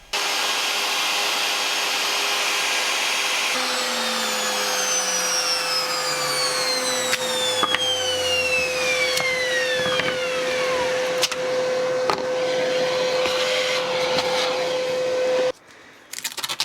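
A router fitted with a cove bit cuts a recess into wood, guided by an MDF template and guide bush, giving a steady loud motor whine with shifting cutting tones that stops abruptly near the end.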